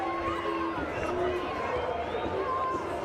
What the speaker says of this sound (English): The crowd letting Hardesty know it